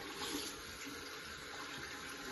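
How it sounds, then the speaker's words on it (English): Tap water runs steadily into a sink during handwashing, a soft continuous splashing hiss with no voices. "First of all, wet the hands from 3 to 4 inches above the wrist."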